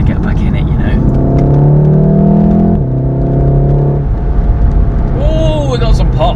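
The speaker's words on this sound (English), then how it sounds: "Oh, we got some pops." A Volkswagen Golf R's engine rises in a loud, close revving drone while driving, drops after a gear change, then eases off with a few sharp exhaust pops near the end.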